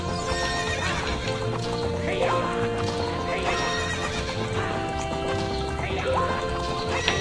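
Horse in the video game Zelda: Ocarina of Time during a race, with steady rhythmic clip-clop hoofbeats under game music and repeated loud neighs, close and continuous throughout.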